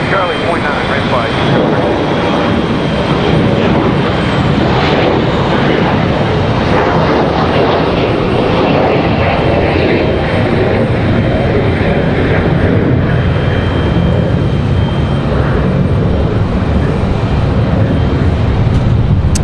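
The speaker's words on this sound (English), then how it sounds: "You guys enjoy the 777 as well." A Boeing 777 airliner at Raleigh-Durham International Airport gives a loud, steady jet engine roar that fills the whole stretch without letup, with people talking faintly underneath.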